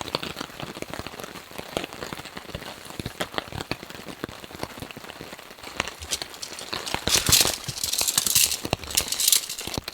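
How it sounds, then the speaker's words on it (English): Rain patters steadily on a tent and tarp at a camp, a dense crackling of drops with heavier bursts toward the end, close and loud with no talking. "how long this rain's going to last for"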